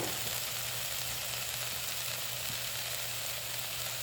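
Spices sizzle steadily in a small pool of hot oil in the middle of a pot of Indian dal lentil soup, a continuous close frying hiss with no voices.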